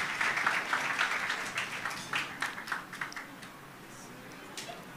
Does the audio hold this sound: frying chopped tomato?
no